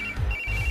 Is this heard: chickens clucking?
no